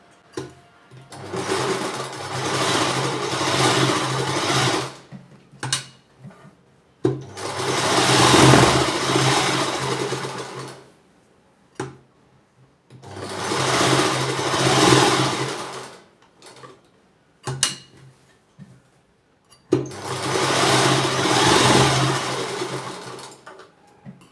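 A sewing machine stitches a one-tuck blouse, tacking a line down the middle of the fabric. It runs in four steady bursts of several seconds each, separated by short pauses, loud and close.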